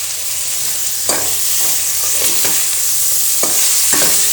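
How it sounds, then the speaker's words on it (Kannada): Onion and tomato frying in a pan for chicken gravy, a steady sizzle with several sharp stirring scrapes at irregular intervals, close and fairly loud, no talking. "ಬ್ರೌನ್ ಕಲರ್ ಆಗೋವರೆಗೂ ಚೆನ್ನಾಗಿ ಫ್ರೈ ಮಾಡಿರಿ"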